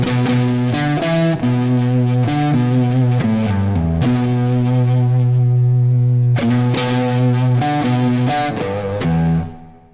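Overdriven electric guitar through an overdrive pedal with the treble raised slightly, playing sustained chords and melodic lines loudly and steadily with reverb-like decay, alone without talk until it fades at the end.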